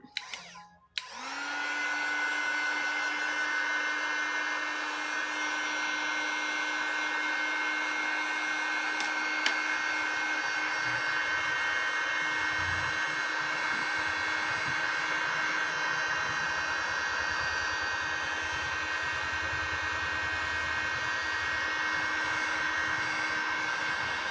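A hair dryer blows steadily to dry a gouache painting, its loud continuous whooshing whine starting after a brief click and holding unbroken for over twenty seconds.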